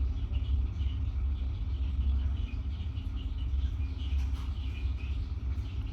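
Landing gear of a Bf 109 K4 retracting in the DCS flight simulator, heard as a steady low mechanical rumble and hum inside the cockpit, continuous and even throughout.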